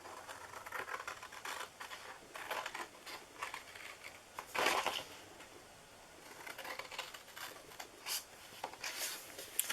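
Scissors snip through a paper scalloped treat box, cutting off the end flaps in a series of short, crisp cuts and rustles, close and fairly quiet.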